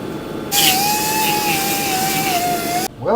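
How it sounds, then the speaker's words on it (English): Abrasive cutoff wheel slicing through a camper's wall, a steady high whine with a sustained pitch lasting a couple of seconds, then cutting off abruptly. "At least with the cutoff wheel, I've got a certain level of control over that."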